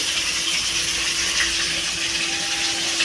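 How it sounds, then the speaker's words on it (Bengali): Running tap water pouring steadily over chopped taro leaves, a continuous close gushing rush with no talk. "আমি কচুর পাতাগুলো আগে কেটে পরিষ্কার করে নিই কেটে ধুয়ে"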